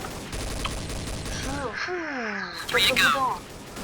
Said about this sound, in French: Oh, comme il s'est fait shooter!